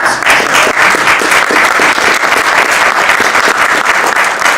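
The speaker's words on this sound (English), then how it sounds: "just a big round of applause for this group" A conference audience breaks into loud, dense applause, many hands clapping continuously and evenly for several seconds with no pause.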